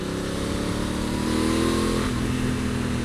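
A Honda Africa Twin DCT CRF1000 motorcycle rides along smooth tarmac on a quiet back lane, its engine a close, steady, loud drone that shifts pitch slightly partway through.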